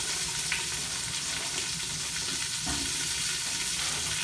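Chopped celery sizzles in melted butter in an Instant Pot, giving a steady, close frying hiss with faint stirring sounds and no talking.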